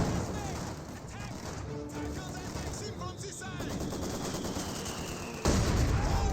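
MG34 machine gun fire in a Company of Heroes 2 match on the Bandit Camp map: dense, sustained bursts of automatic fire mixed with other battle noise, running steadily throughout with a voice talking over it.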